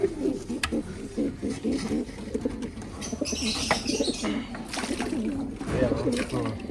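A racing pigeon at a flooded nest coos repeatedly in close, throaty bursts, with a faint voice and some water and chirping sounds in the background.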